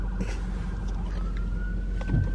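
An ambulance siren passing under a bridge, a thin, steady wailing tone that carries over heavy low traffic rumble and stays fairly distant.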